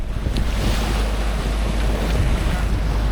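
Sailboat heading out onto the open ocean, with steady loud wind rushing across the microphone and waves washing against the hull, a continuous close roar with no talking.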